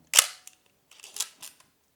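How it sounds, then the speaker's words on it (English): Nikon F2 Photomic 35mm film camera firing its mechanical shutter: a sharp close snap followed by lighter clicks and a brief whirring advance, alone in silence. "And first off, just listen the shutter sound."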